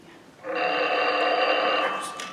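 An old-fashioned telephone bell rings loudly and steadily, a continuous metallic trill that starts abruptly and holds for about two seconds before fading slightly.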